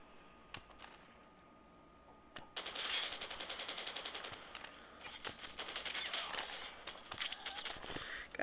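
An RPD machine gun fires in COD Mobile, starting with a few isolated shots and then moving into long, dense automatic bursts, loud and close, with brief gaps between volleys.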